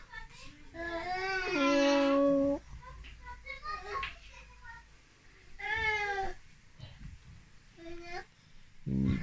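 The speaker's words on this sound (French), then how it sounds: "regardez Mimi le chat" Mimi the cat meows several times in drawn-out, wavering cries spread across the stretch, close and fairly clear, with quieter sounds and murmurs in between.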